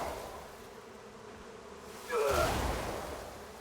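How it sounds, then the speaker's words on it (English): Insect-like buzzing in the video game Crimson Desert, a thin steady drone that swells louder partway through amid a rushing, surf-like wash. "Did we piss the bees off?"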